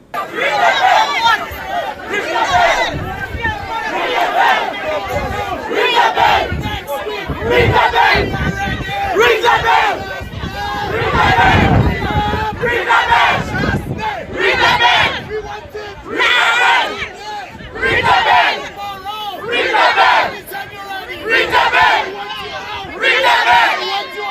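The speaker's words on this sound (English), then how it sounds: "the already incensed crowd, led in part by former Castries Central MP Richard Frederick, responded with a few chants" An incensed crowd in Castries chants angrily in rhythmic, repeated surges of massed shouting, loud and close, each burst rising and falling with short gaps between.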